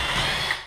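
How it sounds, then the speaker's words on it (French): Power drill with a metal bit boring out a rivet on a roller shutter, a steady close whirring grind that holds level throughout and tails off briefly at the end. "je vais faire sauter ce rivet avec une perceuse, une mèche à fer"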